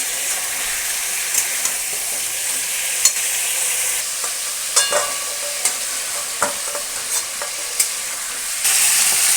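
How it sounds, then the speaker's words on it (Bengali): Chicken pieces lightly frying in hot oil in a home kitchen sizzle loudly and steadily, broken by repeated clinks and scrapes of stirring against the pan, with no one talking. "দেখো বন্ধুরা, চিকেনটা আমার হালকা ভাজা হয়ে গেছে।"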